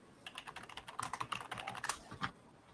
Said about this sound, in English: There's so much typing.